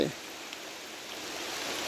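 Steady, faint rain falls at night over a rubber plantation during a passing storm, an even hiss with no voices.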